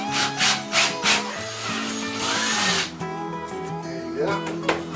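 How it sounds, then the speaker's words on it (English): During an over-the-range microwave installation, a power drill bores a hole, giving a steady close grinding whir for several seconds, followed by scraping and handling noises as the bit is withdrawn. "I'm going to drill a hole right here so it's nice and neat."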